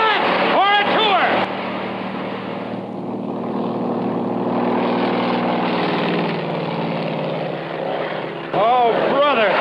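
A propeller airplane engine roars loudly and steadily during takeoff, with brief voices shouting over it at the start and end.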